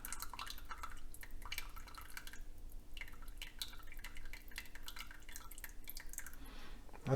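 Grease and gravy from a pork and turnip stew being poured slowly, a faint uneven trickle with soft drips and light clinks of a pitcher, heard close and quiet.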